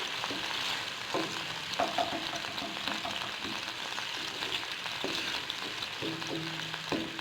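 Ginger and garlic fry gently over low heat in a pan, giving a soft continuous sizzle with occasional light stirring clicks, heard alone without talk.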